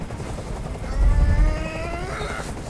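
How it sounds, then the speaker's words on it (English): Helicopter in the video game Detroit: Become Human, a droning rotor rumble with a rising, whining engine tone, swelling louder partway through and holding close and steady. "I can't stand that noise anymore. Tell that helicopter to get out of here."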